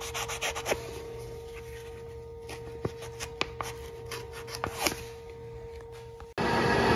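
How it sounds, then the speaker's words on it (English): Fine 1000 grit sandpaper rubs back and forth in a small slot of a lathe-turned wooden mouse, a close, dry, raspy scratching with steady strokes over a constant machine hum, which cuts out abruptly near the end. "I also like to just sand that little slot as well while I've got the sandpaper there"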